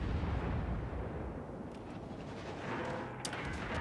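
Heavy battleship guns of the Conte di Cavour in World of Warships Legends rumble and boom as a dense, sustained low roar, with a sharp crack near the end.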